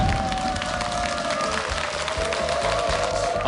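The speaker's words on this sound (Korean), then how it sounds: "이번엔 축하의 박수를 여러분 한번 보내주시면 고맙겠습니다." A studio audience on a TV quiz show applauds a contestant, with dense, steady clapping and crowd noise throughout and a faint tonal hum underneath.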